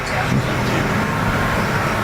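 Bomber-class race cars roar around a dirt speedway oval during a heat race, a dense, steady engine drone from the pack coming off the turn, with an announcer talking over it.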